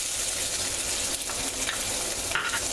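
Onions sautéing in olive oil in a medium saucepan give a steady, fairly loud hiss of frying, with faint stirring scrapes breaking through now and then.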